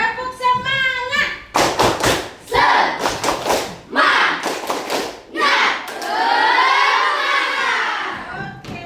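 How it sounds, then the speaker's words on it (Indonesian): Schoolchildren in a classroom perform a rhythmic spirit clap, loud bursts of clapping in a patterned beat alternating with group chanting, ending in a sustained shout. "kita tepuk semangat dulu ya"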